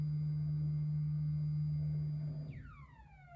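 Stepper motor of an electronic cat flap driving the flap shut, a steady faint hum that ends in a short rising whirring sweep as the flap closes.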